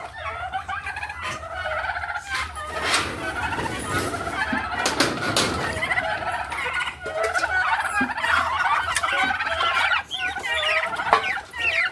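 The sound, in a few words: turkeys gobbling at feeding time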